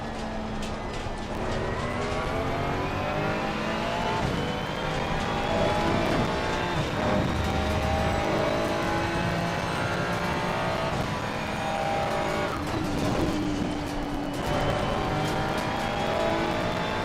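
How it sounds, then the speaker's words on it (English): Turbo race car in Assetto Corsa Competizione, engine revving loudly and climbing through gears with sharp shift breaks and falling-then-rising pitch sweeps, a continuous close roar with no voices. "Even some of the gear changes sound really good"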